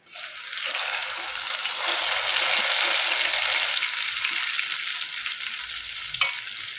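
Steady loud sizzling as ground spice paste fries in hot oil for a fish curry, with occasional stirring scrapes and no talking.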